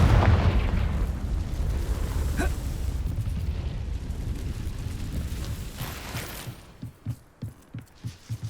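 Confringo blasting spell from the video game Hogwarts Legacy, a loud, sustained fiery blast with a rumbling roar that fades to a few short low thumps at the end.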